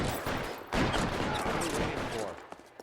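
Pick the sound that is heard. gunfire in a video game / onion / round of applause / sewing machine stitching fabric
gunfire in a video game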